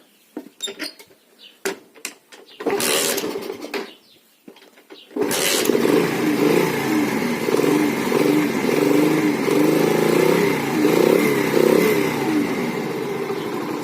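A cold moped, left standing overnight, is kicked over in several short attempts with clicks and sputters, catches, and then runs with a steady, loud, close buzzing idle and some light revving.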